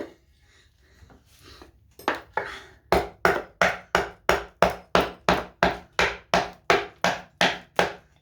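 Hatchet strikes chopping into a cedar block shaped as a leaf, a few softer scrapes first, then about fifteen sharp, evenly spaced close chops in a steady rhythm.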